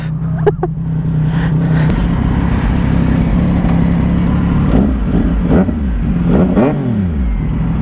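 A CFMOTO 675 NK motorcycle fitted with an aftermarket VMAX Racing exhaust idles with a deep burble, then is blipped through several sharp, loud revs that rise and fall back, heard up close with no talking.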